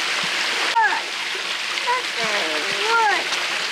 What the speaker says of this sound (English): The water's flowing fast.